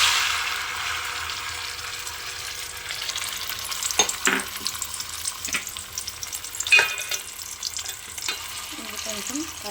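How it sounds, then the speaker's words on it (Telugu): Spice paste frying in hot oil for a mushroom curry gives a steady, moderately loud sizzle, broken by a few sharp clinks and scrapes of stirring partway through. "ఇప్పుడు ఈ ఆయిల్ హీట్ ఎక్కిన వెంటనే మనం ఆ పేస్ట్ వేసుకొని ఫ్రై చేద్దాం"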